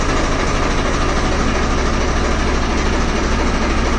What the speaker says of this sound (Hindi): काफ़ी अच्छी आवाज़ है और काफ़ी साफ ट्रैक्टर है